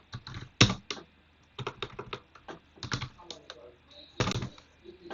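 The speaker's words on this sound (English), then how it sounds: "then I'll type in price here." Typing on a computer keyboard while coding in Python: quiet, close, irregular bursts of key clicks with brief pauses between groups of strokes.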